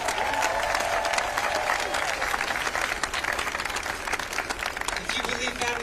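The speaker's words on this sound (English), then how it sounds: "Give yourselves a round of applause, everybody." Crowd applause at a Los Angeles ICE protest: dense, continuous clapping from many people, loud and close, with scattered cheers and voices mixed in throughout.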